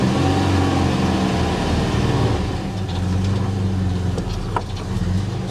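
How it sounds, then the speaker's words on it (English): An Audi A6 Avant Quattro is put into first gear and begins moving, its engine giving a steady, close low rumble with faint mechanical clicks and no talk. "Let's go ahead and put it in first gear. We'll let the e-brake off here. Here we go. See if it moves forward and backward."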